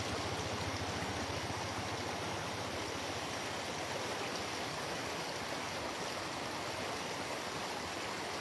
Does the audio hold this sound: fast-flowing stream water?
yes